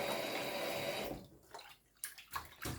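Water swishes and sloshes as millet is rinsed, a continuous pour giving way to a few short splashes near the end.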